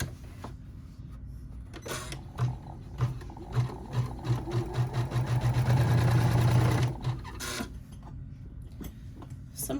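A Janome 500E embroidery machine stitches in a rapid mechanical run that starts in pulses, builds into a steady loud whir for a few seconds, then stops, with softer handling clicks around it.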